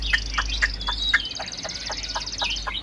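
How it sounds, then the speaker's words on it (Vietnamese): A freshly arrived songbird, a tam hoàng caged bird, chirps in quick, regular high-pitched notes, a steady series of clear tweets heard close up over a low hum. "Chim vừa mới về xong."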